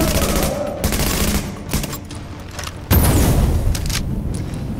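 Grenade blast and gunfire in the shooter game The Division: sustained dense combat noise with several sharp hits, and a big boom near the three-second mark, loud and close, with no talk.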